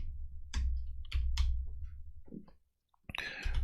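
Rapid keystrokes and clicks on a computer keyboard come in short irregular bursts over a low steady hum, close and moderately quiet, with a brief near-silent pause before a final cluster of sharper clicks.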